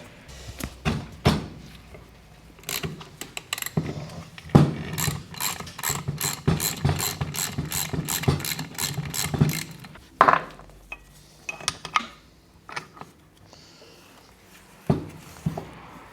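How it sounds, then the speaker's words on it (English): A ratchet wrench with a 17mm socket loosens a bolt on a Bosch motor, giving a fast, crisp run of clicking pawl ratchets over several seconds. Scattered knocks and clunks of tool handling come before and after. "this is a 17mm socket. And this should actually come off quite easily."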